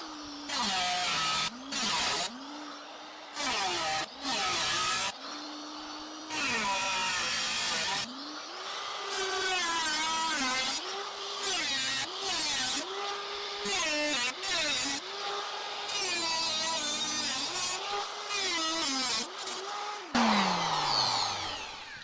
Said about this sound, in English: This is why I like to use the larger rotary tools than Dremels.